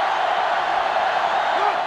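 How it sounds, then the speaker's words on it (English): A sellout stadium crowd in an NCAA Football video game roars in a steady, dense wash of cheering that never lets up, with a faint whoop rising near the end. "The sellout crowd is really making a difference now as these guys can't even call the play."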